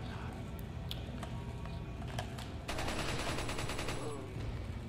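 Gunfire in Resident Evil 4, a scattering of sharp shots over a dense game soundscape, followed by a louder sustained burst of rapid reports partway through.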